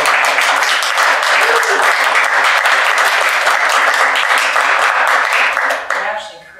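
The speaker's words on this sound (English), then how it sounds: "I'm just going to clap." Loud, continuous applause from a room of people fills several seconds before fading at the end, with a few voices faintly underneath.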